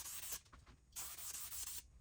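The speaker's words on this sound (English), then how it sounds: "Spraying both sides of the foam and the back" Spray adhesive hisses from a can onto the foam of an upholstery cushion in short close bursts, two long sprays separated by brief pauses, with no talking.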